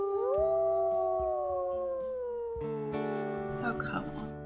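Wolf howls in the video game Tracker's Tale: long rising and falling wails from several animals layered together, fairly loud and close, sliding over one another and swelling into a denser chorus near the end.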